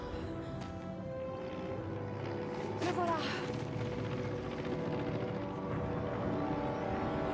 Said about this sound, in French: Voilà l'avion qui arrive.